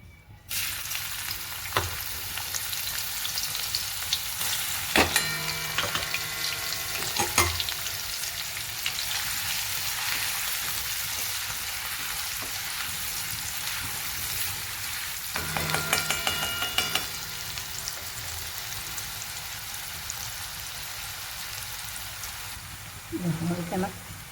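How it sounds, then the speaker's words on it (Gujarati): Onions sauté in hot oil for misal pav with a continuous bright sizzle and occasional spoon clinks. A voice speaks briefly at moments over the frying. "ડુંગળી સંતળાઈ જાય છે"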